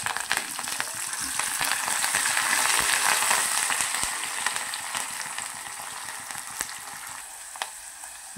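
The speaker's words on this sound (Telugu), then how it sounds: "ఈ తాలింపు మొత్తం వేగిపోయింది." Garlic, dried chillies and curry leaves crackle and sizzle steadily in hot oil as a tempering, a continuous close frying hiss with occasional stirring clicks and no talking.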